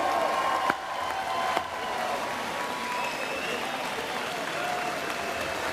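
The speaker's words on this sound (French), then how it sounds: "Des applaudissements donc pour la délégation française." An audience at a Free Iran gathering applauds the French delegation, a steady wash of clapping from a large crowd that carries on evenly, with a couple of sharp knocks early on.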